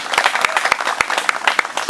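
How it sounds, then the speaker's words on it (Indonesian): A small audience at the Tondok Bakaru village festival in Mamasa claps for Abdi and friends, with sharp, separate hand claps close by in an uneven rhythm through the whole moment. "Tepuk tangan sekali lagi untuk Abdi dan kawan-kawan"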